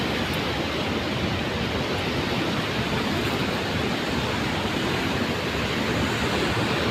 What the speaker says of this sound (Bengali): তো দেখো এইদিকে কতটা জল যাচ্ছে, স্পিড জলে